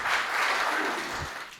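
Brief applause from the audience at a Hindi comedy poetry gathering, a short, even patter of many hands clapping that tapers slightly toward the end.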